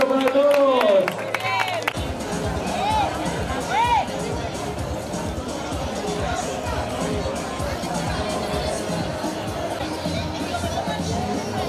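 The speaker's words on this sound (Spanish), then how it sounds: "¡Fuerte aplauso para todos!" A crowd at a children's urban cross-country race claps and cheers for the young runners, steady scattered applause mixed with chatter and voices close by.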